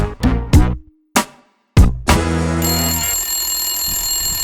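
A telephone rings loudly and close in several short, separate bursts with gaps between them, then gives way to a steady high electronic tone.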